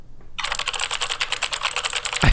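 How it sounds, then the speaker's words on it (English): Rapid clicking of keys on a computer keyboard during a livestream, a steady close-up patter of keystrokes that starts after a brief pause and runs continuously. "What, you like my keyboard noises?"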